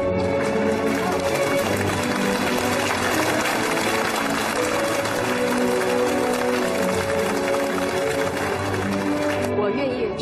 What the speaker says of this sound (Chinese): 我希望大家跟我一起起立为他鼓掌